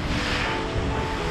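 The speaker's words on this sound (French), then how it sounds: "Le vent est effectivement monté, il y a un bon 25 nœuds." Strong squall wind roars with waves washing around a small racing sailboat at sea, a dense continuous rush filling the whole moment, loud and close.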